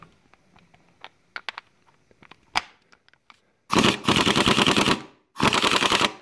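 An air impact wrench on a nut fires off two loud, rapid hammering bursts about a second long each, after a stretch of faint clicks and taps, heard close with no talking.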